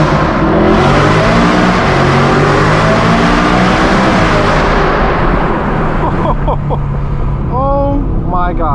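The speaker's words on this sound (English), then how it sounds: "this car sounds incredible. Straight pipe exhaust." A straight-piped, Gintani-tuned BMW M3 E92 V8 with a DCT gearbox revs hard inside a tunnel, a loud, booming exhaust rising through gears and echoing off the walls, with excited voices heard near the end.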